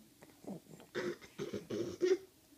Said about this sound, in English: clearing your throat too?